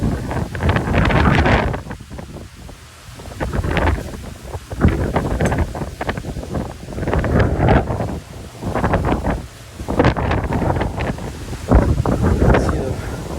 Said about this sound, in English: You can really see that wind running.